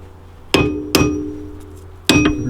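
An axe swung as a hammer while installing a car coilover, three sharp metallic clangs with ringing tails, the first two close together and the third after a pause, loud and close.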